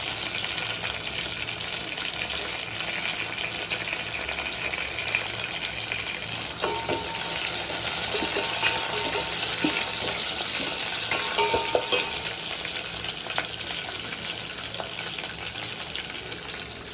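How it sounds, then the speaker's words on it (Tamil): Chopped onions frying until golden brown for a prawn curry, a constant hissing sizzle with occasional stirring scrapes and clicks of a spoon, steady and moderately loud, no voices. "கட் பண்ணி வச்ச வெங்காயத்தையும் போட்டு நல்லா பொன்னிறமாக வதக்கலாம்"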